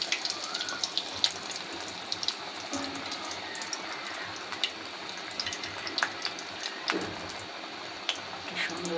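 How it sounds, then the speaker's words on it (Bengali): Food frying gently in a pan on low heat gives a soft, continuous crackle with scattered small pops and faint watery bubbling, fairly quiet and close. "সুন্দর করে ভাজা হচ্ছে। আমি অল্প আঁচে ভেজে নিচ্ছি"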